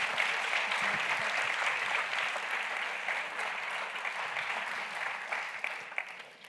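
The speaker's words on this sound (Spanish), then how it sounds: "si queréis le podéis aplaudir con total libertad" An auditorium audience at a Spanish trans-rights event applauds a speaker, a sustained, even roar of many hands that tapers slightly toward the end.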